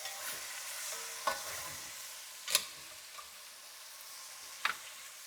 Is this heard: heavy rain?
no